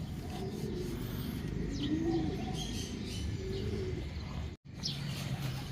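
A pigeon coos softly several times against a steady outdoor background hum, with a brief rustle that may be wings.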